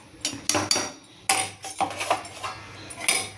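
Tomato paste and onions are stirred in a cooking pot, a spoon scraping and clinking against the metal in irregular close strokes with short pauses between.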